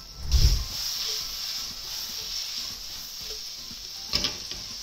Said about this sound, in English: So let's start to cook our bacon.